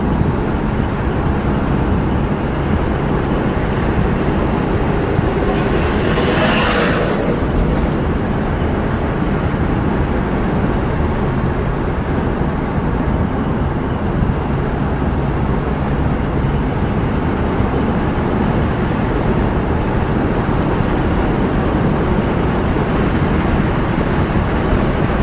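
A black 1954 Mercury Monterey convertible cruises through the countryside, its steady engine and road noise holding a loud, even level throughout with a brief swelling whoosh partway through.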